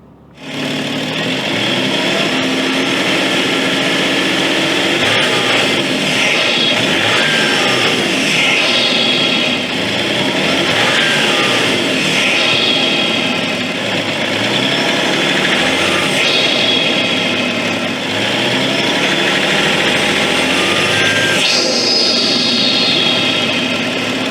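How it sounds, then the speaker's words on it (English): A BMW M57 diesel engine idles loudly and steadily, recorded up close in the engine bay, with a continuous clattering rumble that never lets up. "put the camera and the mic in the engine bay and see if I can get you guys some sound clips"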